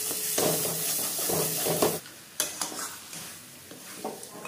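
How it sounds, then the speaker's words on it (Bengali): Goat meat sautés with turmeric, chili powder and other ground spices in a pan, sizzling loudly while a spoon stirs and scrapes in bursts, then the sizzle thins out around sharp clinks of utensil against metal. "খাসি মাংস কষাকষি করছে"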